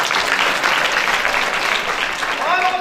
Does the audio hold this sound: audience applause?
yes